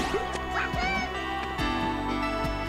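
Birds quack repeatedly in the video game Klonoa: Door to Phantomile, several squawky calls over a dense, continuous game music backdrop.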